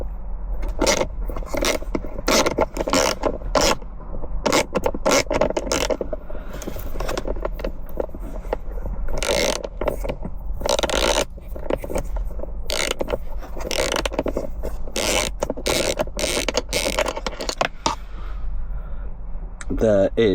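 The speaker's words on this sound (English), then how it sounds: "my socket set" A socket set ratchets bolts out of a Tesla, giving a long run of quick, close clicking and metallic rattling, with a voice speaking intermittently over it.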